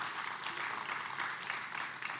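An audience at a workforce skills conference applauds a panelist, giving a soft, steady round of clapping that sounds fairly distant and stays even throughout.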